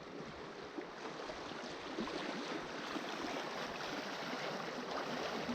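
A rain-swollen woodland creek rushes steadily, a dense, even wash of flowing water close by with no talk, holding a constant level throughout.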